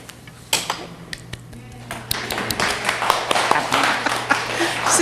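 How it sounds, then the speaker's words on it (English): Applause breaks out in a city council chamber after a 5-0 vote, a scatter of claps building into steady clapping from a small crowd, with a voice talking over it. "Since we're in an applauding mood tonight, I want to get involved."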